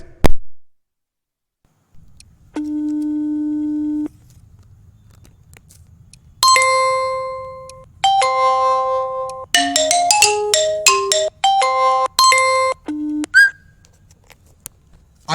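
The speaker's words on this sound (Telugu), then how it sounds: "ఆ రింగ్ టోన్ అనేది ఏ విధంగా ఉందో ఒకసారి మీకు చూపిస్తాను వినండి ఫ్రెండ్స్" A Lenovo phone's default ringtone plays loud and clear: one sustained electronic tone, then a quick melodic run of bright bleeping notes, with nothing else heard.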